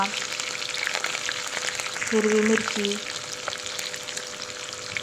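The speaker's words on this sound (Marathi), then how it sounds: "आपण फोडणी घातलेली आहे मोहरी कढीपत्ता" Loud, steady sizzling of mustard seeds and curry leaves tempering in hot oil for potato upma, with a short spoken phrase heard over the crackle.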